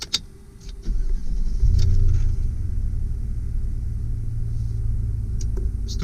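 A 2005 Chevy Silverado 2500 HD 4WD pickup with 110,000 miles cranks briefly, then its engine catches and settles into a loud, steady low idle rumble heard up close.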